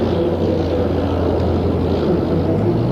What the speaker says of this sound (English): the Airbus A400M